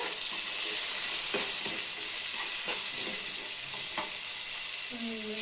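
Two onions fry in oil in a pan along with garlic, ginger and green chilies for a village-style palak paneer. A continuous close hiss runs throughout, with a few sharp crackles and spatula clicks.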